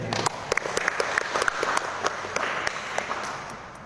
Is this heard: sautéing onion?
no